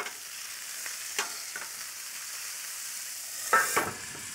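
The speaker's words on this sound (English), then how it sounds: "I want my meat to brown and I don't want it to get all gooey" Chicken browning on a hot plate gives a steady, soft sizzle at low level, with a few sharper crackles and stirring taps scattered through, the loudest burst coming near the end.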